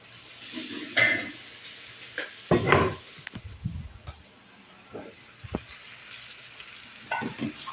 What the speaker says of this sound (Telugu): ఇప్పుడు ఇందులో మనం పట్టి పెట్టుకున్న మసాలా ఉందిగా, సపరేట్ మసాలా, ఆ మసాలా కలుపుకోవాలి.